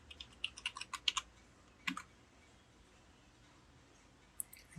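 Typing on a computer keyboard to enter a username into an Arduino Nano hardware password manager: a quick, close run of soft key clicks, then a single tap, a pause, and one more click, all quiet, with no talking.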